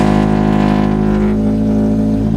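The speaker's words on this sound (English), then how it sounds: "Like literally worst sounding vehicle ever" A first car, brought back after a fuel problem was fixed, idles rough and loud up close, its engine drone harsh and uneven with a slight dip in pitch midway, no voices over it.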